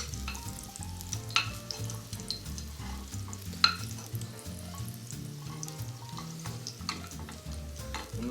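Sliced potatoes, turned to their second side, fry steadily in a hot pan with a continuous close sizzle, a few soft scrapes and taps marking the turning.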